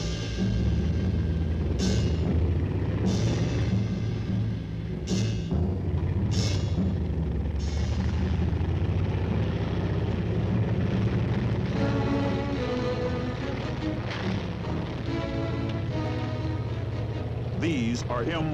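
M48 tanks roll along in a dense, continuous heavy rumble with clanking bursts, loud and close throughout, while a voice talks over it.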